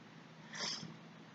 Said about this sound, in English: And there's the cat, Yuki.